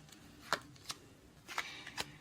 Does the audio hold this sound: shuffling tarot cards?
yes